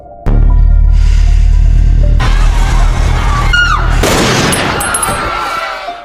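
A dense burst of loud gunfire erupts over a low rumble, followed by sharp whistling streaks and a harsh blast that fades slowly.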